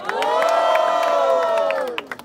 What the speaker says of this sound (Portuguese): Faz barulho quem gostou das rimas da MC Florzinha.